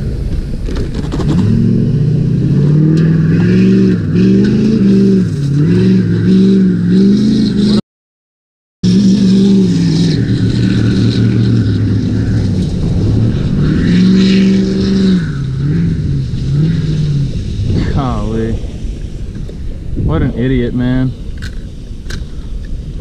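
A car engine near a river revs loudly and repeatedly in rising and falling surges, with a short cut of silence partway through. A voice talks at times.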